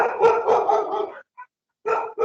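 A dog barks in a quick, loud run of several close barks, pauses with a faint yip, then resumes barking, with no talk over it.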